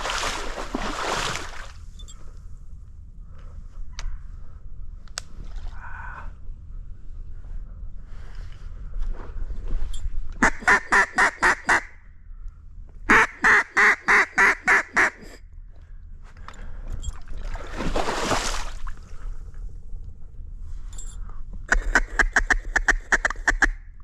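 Mallard ducks in flooded timber on public land during a duck hunt give repeated bursts of rapid, close quacking with quieter gaps of water and movement between.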